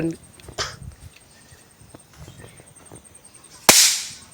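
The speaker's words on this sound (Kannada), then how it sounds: "ಒಂಜಿ ಪಟಾಕಿ ಕೂಡ" Quiet ambience with a few faint taps, then one sharp, loud Diwali firecracker bang near the end that trails off in a hiss.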